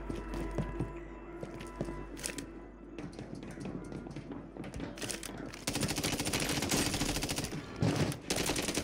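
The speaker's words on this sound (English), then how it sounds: "there's guys on me, shooting me right now" Call of Duty: Warzone gunfire: scattered single shots and short bursts early, building into sustained rapid automatic fire, loud and close with some quieter distant shots.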